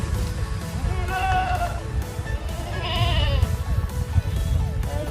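Young goat kids bleat on a rural Thai farm, with several close wavering cries over steady low background rumble and handling noise.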